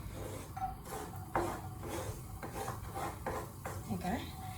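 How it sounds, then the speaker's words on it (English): Onion and garlic go into a cooking pan, giving a series of soft clinks, scrapes and stirring rubs against the pan at close range, with quiet kitchen background and no talking. "Right, I'm just going to whack in the onion and the garlic."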